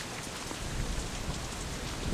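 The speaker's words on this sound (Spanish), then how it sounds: "Es que la lluvia se escucha." Steady video game rain pours and patters continuously with a broad hiss during a storm, slightly swelling toward the end, with no voices.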